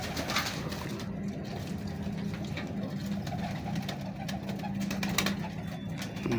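Low cooing of a large, hefty pigeon repeats through the clip over a steady background engine hum, with faint scattered noises.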